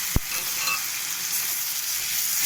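Food sautéing in a hot pan with salt and turmeric gives a steady, close sizzle throughout, with one sharp knock of the spoon near the start and no talking.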